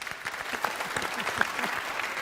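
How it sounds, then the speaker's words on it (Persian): Short burst of crowd applause for a Quran reciter, dense clapping from a nearby audience lasting about two seconds. "تشویقش کنی."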